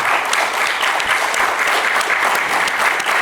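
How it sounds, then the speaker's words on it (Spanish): Steady, dense applause from an audience fills the space at an even level, a continuous wash of many hands clapping with no voices standing out. "vamos a demostrártelo con un aplauso"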